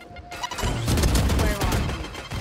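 Grenade blast in Valorant, a sudden loud burst followed by a rough crackling, rumbling tail that lingers for about two seconds, up close and alone.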